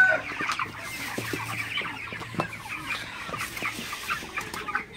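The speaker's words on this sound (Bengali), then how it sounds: "আমার ব্রয়লার মুরগিগুলো আপনারা দেখতে পাচ্ছেন" Several broiler chickens cluck and murmur close by at night, soft overlapping calls with a few sharper clucks, with no people speaking.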